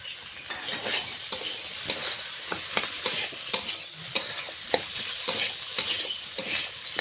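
Potato and shrimp fried with salt and turmeric in a pan, a close steady sizzle with rhythmic spatula scrapes and clinks every half second or so.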